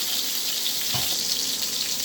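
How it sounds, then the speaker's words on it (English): Smashed burgers frying in a cast iron sauté pan give a steady, loud hiss and sizzle, with a brief soft clatter partway through and no voices. "we got our burgers in a saute pan here in the almighty cast iron"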